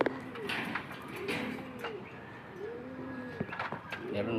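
Racing pigeons at a loft in Carranglan, Nueva Ecija, give several soft, rounded coos in a repeating rhythm, fairly close and quiet, with a faint voice in the background.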